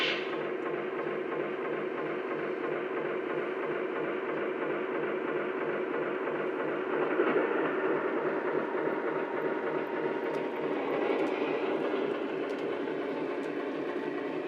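B&O-style passenger train rolling on rails, a continuous loud rumbling roar with a faint rhythmic clatter, steady and uninterrupted throughout.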